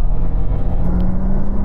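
Inside a BMW i7 electric car accelerating hard during a race, a loud continuous low rumble of road and motor noise with a steady whine. No one speaks.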